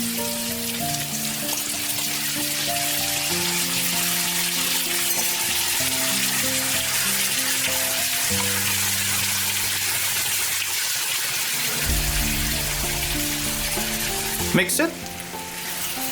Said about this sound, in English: We're gonna cook this for about 2 to 3 minutes.